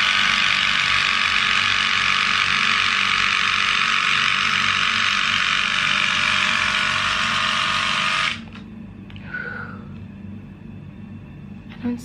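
A Split Ender Pro hair trimmer running close and loud, a steady buzzing drone for about eight seconds before it cuts off, leaving faint handling noise.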